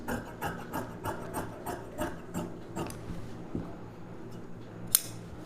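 Tailoring scissors cut silk saree blouse fabric in a quick series of close, crisp snips at a steady rhythm, slowing toward the end with one sharp click, and no voices.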